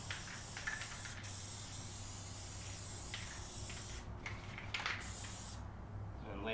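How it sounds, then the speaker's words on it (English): Aerosol spray hissing onto the back of carpet in a fifth-generation Toyota 4Runner, a continuous close hiss with a few brief pauses and short extra bursts near the end. "Maybe spray the back of the carpet here."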